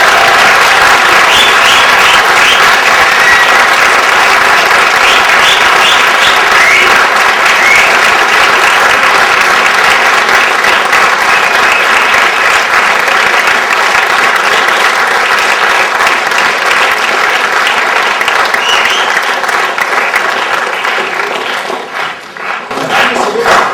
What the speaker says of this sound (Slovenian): In ta aplavz je sedaj samo za vas.